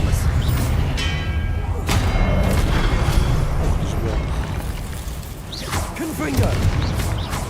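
Expelliarmus spell cast during a Hogwarts Legacy video game battle: heavy thuds, booming blasts and whooshes pile up continuously at close range, with voice-like game sounds mixed underneath.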